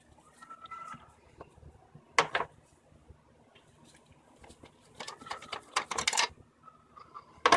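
Screws are loosened from the engine cover of an 8th-generation Honda Accord, giving faint intermittent ratcheting clicks and a few sharper metallic clatters, close by in a quiet garage.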